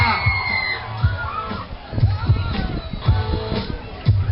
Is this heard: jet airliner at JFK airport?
no